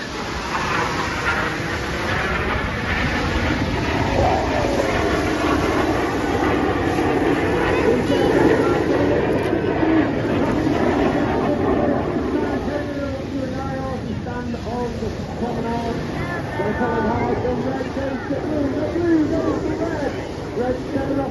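Red Arrows jets fly past at the 2025 Sidmouth regatta air display, a broad, sustained jet roar that swells and fades gradually over about twenty seconds, loud and distant-sounding, with a commentator speaking over it.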